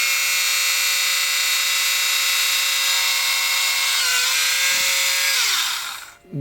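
A power drill spins into a brittle plastic model-kit sprue with a steady, loud high whine that holds for several seconds, dips slightly in pitch, then winds down and stops.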